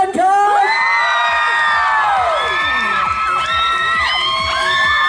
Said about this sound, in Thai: ขอเสียงกรี๊ดดังๆ